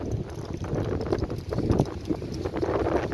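Horse hooves clip-clop near the horse stables at Apes Hill in St. James, Barbados, a steady run of soft, close knocks over a low wind rumble.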